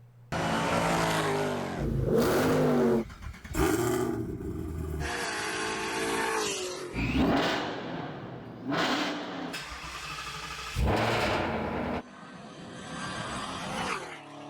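A 2024 Mustang Dark Horse with a Whipple tune tears down a quarter-mile drag strip, its engine roaring loud and close through repeated hard revs and gear-change breaks, with no talking over it.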